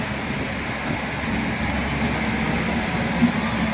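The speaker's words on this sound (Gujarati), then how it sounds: "જો ટ્રેન નીકળી અત્યારે" A steady low rumble with a broadband wash of noise as an Indian Railways train rolls past on tracks nearby, continuous throughout with no talking.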